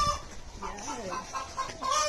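Hens at a poultry shelter on a dairy farm in the Netherlands, clucking and calling over a steady barnyard murmur, close and moderately loud for about two seconds.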